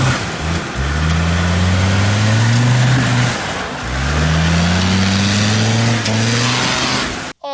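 A Land Rover Discovery TD5 diesel engine revs loudly and up close twice, each rise held then dropping back, with a brief idle between and an abrupt cutoff at the end.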